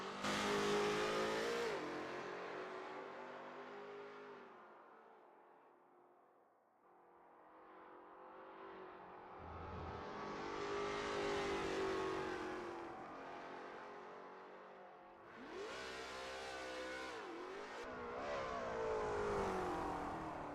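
Lola T70 MkII Spyder race car in a racing game at Spa, engine rising and falling through repeated loud revs and gear changes on a practice lap, swelling and easing with acceleration, no talk.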